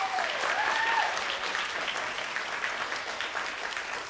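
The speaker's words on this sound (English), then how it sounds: "A round of applause for them, absolutely." A theatre audience applauds a couple picked from the crowd, broad steady clapping with a brief whoop or whistle near the start.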